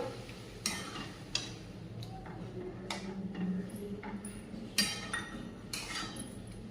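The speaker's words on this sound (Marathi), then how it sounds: "होईपर्यंत आपण तुपामध्ये चांगला परतून घ्यायचा आहे" Grated bottle gourd sautéed in ghee in a pan for lauki halwa, with a soft steady sizzle under repeated sharp clinks of a spoon against the pan, close and fairly quiet, with no talking.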